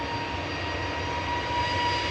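An EasyJet airliner bound for Amsterdam runs its jet engines at Manchester Airport, a steady broadband roar with a faint high whine, heard briefly and alone.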